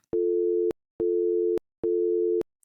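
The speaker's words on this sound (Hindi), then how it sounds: "और फिर फोन कट गया।" Three evenly spaced busy-signal beeps from a phone line after a call drops, each steady tone lasting about half a second with short silent gaps, clear and alone.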